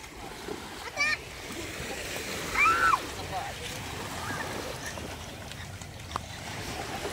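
Jellyfish are returned to the sea by hand, making a couple of short water splashes over lapping waves, with faint chirping and background noise around them.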